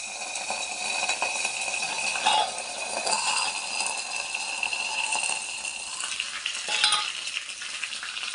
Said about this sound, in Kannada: ಈಗ ಎಣ್ಣೆ ಸಾಸಿವೆ ಹಾಕಿದ್ದೀನಿ ಇದಕ್ಕೆ ಕರ್ಬೇವಿನ ಸೊಪ್ಪು ಒಣಮೆಣ್ಸಿನ್ಕಾಯಿ ಹಾಕ್ತಾಯಿದ್ದೀನಿ